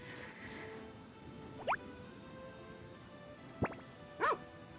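A dog in the farming game Harvest Moon: Back to Nature gives three short, separate barks or yips over a quiet background, each brief and fairly clear.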